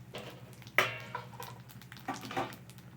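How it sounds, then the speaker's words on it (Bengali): Black cumin seeds and dried red chillies crackle in hot oil in a pan, making a quiet sizzle with a few sharp spits and scraping stirs. "শাক ভাজাটা বসানোর জন্য আমি দুটো কালো জিরে আর দুটো শুকনো লঙ্কা দিয়ে দিচ্ছি"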